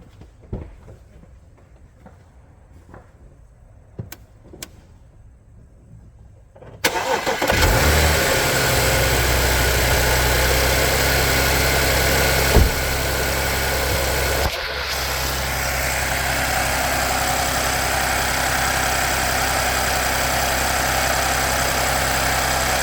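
A 2009 Audi A6 Avant catches on a cold start after several seconds of near silence, then settles into a loud, steady idle that runs on alone with a slight drop in level partway through.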